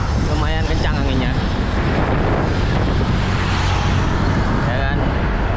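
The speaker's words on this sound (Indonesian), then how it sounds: "Angin lumayan" Strong wind buffets the microphone in a steady, loud roar during a group road-bike ride near Taman Safari in Pasuruan, with a voice talking underneath.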